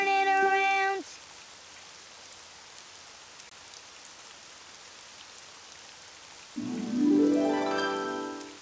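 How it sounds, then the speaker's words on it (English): Rain falls softly and steadily outdoors, a faint hiss between short musical tones at the start and end. "It's raining outside."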